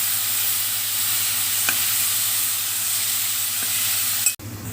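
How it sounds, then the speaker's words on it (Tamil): Ingredients for goat head curry sizzle steadily in a frying pan as they are stirred, with two faint scrapes of the spoon. The hiss cuts off abruptly near the end. "இதை அப்படியே கிண்டி விடுவோம்."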